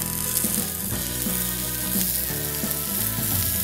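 Oil sizzles and crackles in a pan as onion and pepper slices are grilled for a three-layer burger. The frying hiss is steady and close, with small popping bursts throughout.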